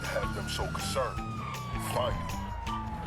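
A police car siren wails in GTA Online, sweeping up and down over engine noise while someone talks over it throughout.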